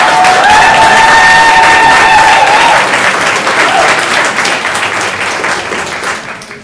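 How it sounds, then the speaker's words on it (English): Audience clapping and cheering at a county council meeting after a resolution passes, loud dense applause that gradually thins and fades toward the end, with a brief tonal whistle or squeal early on. "You can clap, it's okay."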